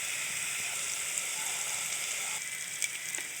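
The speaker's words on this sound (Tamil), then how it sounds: "இப்போ இந்த கொத்தமல்லி பேஸ்ட் போட்டு நல்லா வதக்கி விடுங்க." Coriander paste sautés in hot oil in a pan, a continuous soft hiss and crackle like light rain, with a few faint stirring taps near the end.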